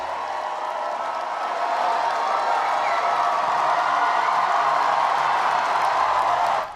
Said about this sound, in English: Crowds sound off after a record-breaking win tonight.